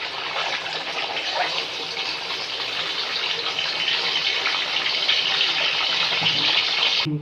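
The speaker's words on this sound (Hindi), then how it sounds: "अब हम इसे फ्राई करेंगे, तो इसे ऑयल में डाल देंगे।" Chicken chargha frying in hot oil, a loud, steady, dense hiss and crackle that runs unbroken for several seconds and then cuts off abruptly, with no voices.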